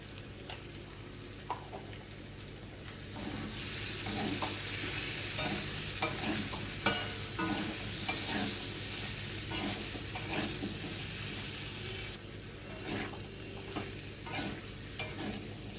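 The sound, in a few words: yam pieces with spices being fried and stirred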